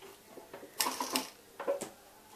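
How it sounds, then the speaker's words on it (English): A sewing machine stitches bias tape around a fabric corner in short, quiet bursts of mechanical whirring separated by pauses. "here you can see you have to start sewing there"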